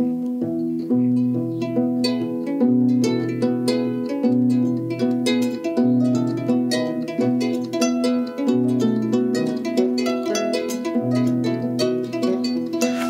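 Several koras play interlocking, layered plucked patterns that build and shift continuously, a dense sustained weave of bright string notes with steady rhythm and no talking, from a masterclass.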